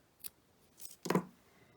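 Scissors snipping the ribbon ends of a small handmade paper-craft bow, a few quick crisp close cuts, the last one the loudest, in a quiet room.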